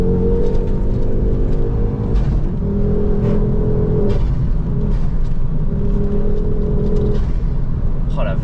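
A Ford Focus RS driven on a public road, its engine pulling and droning steadily with a continuous close rumble throughout, tonal harmonics shifting as it accelerates.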